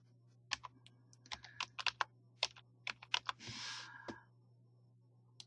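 Keys clicking on a computer keyboard, with the Enter key pressed, in a run of irregular, close, crisp taps and a short burst of rustling noise near the end, with no voices.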